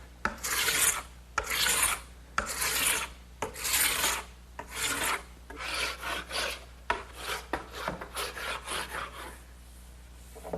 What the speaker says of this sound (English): So I'm just going to use a scraper and remove all that wax.